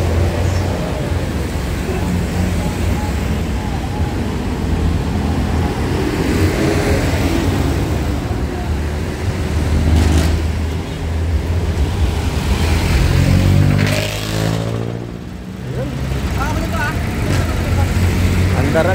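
Repaired tamping rammer engine starting on one pull and running hard, a loud continuous rattling engine roar with shifting pitch, and people talking over it.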